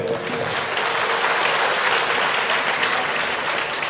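Crowd applause during a Bhagavat katha religious gathering, a steady, even patter of many hands clapping close by for a few seconds.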